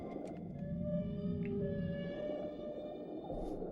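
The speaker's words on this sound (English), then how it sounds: "I wonder if the whale sounds are like human generated or if they copied it from a real whale." Whale calls in Endless Ocean Luminous, a series of long, drawn-out tonal moans and squeals that sound close and clear over a soft underwater hum.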